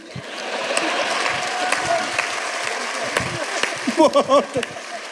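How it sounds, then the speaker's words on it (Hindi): A few audience members clap at a Hindi poetry gathering (kavi sammelan), a thin, scattered patter of hands, before a voice speaks briefly near the end. "2-3 लोग ताली बजा रहे हैं, आप भी रहने दो।"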